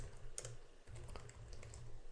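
Someone types on a computer keyboard with faint, quiet clicks in an irregular patter and no speech.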